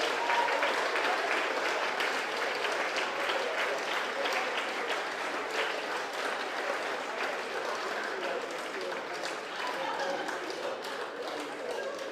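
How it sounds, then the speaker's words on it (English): Crowd applause for the match officials at a Jersey versus Isle of Man cup final, a broad continuous clapping from many spectators that holds steady and slowly softens, with a voice faintly present beneath. "Big round of applause to our match officials as well."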